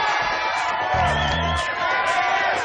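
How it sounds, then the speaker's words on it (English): A crowd at a Canadian motocross national race in Walton cheers and whoops for the winner, a broad steady roar with a voice briefly rising over it midway. "Big round of applause for Randy Belay."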